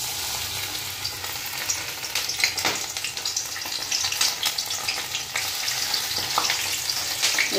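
Spiced pakora batter frying in hot oil at home, a steady close sizzle and crackle running the whole time with bursts of bubbling and occasional stirring clicks, no voices.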